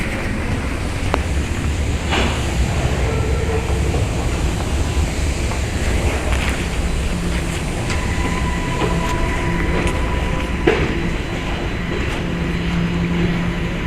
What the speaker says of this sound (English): I know that this is the subway